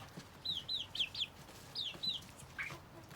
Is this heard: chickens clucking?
yes